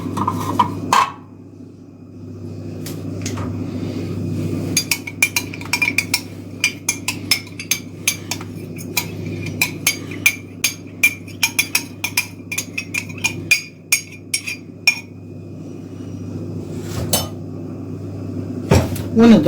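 Ghee and oil being beaten together for basbousa, a spoon or whisk clinking rapidly and repeatedly against the bowl in a steady rhythm, close and fairly loud in a kitchen, with a low background hum.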